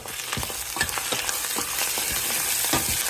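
Mutton spleen fries in oil with onions, a loud, close, steady sizzle punctuated by quick spatula scrapes every fraction of a second, no voices over it.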